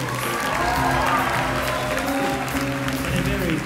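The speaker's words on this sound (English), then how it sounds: "How about a round of applause for our vocalist" Concert audience applauding a jazz vocalist at a University of Utah show, a dense steady wash of clapping with light cheering, sustained and fairly loud, with band tones lingering beneath.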